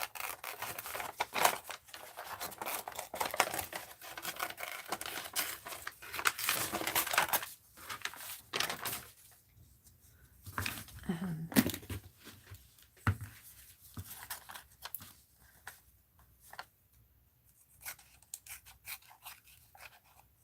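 Scissors cut out a paper doll figure for an art journal: close, soft snips and paper rustling come in irregular bursts with quieter pauses between them.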